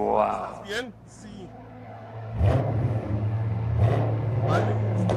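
A straight-piped 6.2L V8 in a 2019 Chevrolet Corvette Grand Sport revs and roars louder in bursts, with a rising engine note and a brief tire squeal, mixed with people speaking.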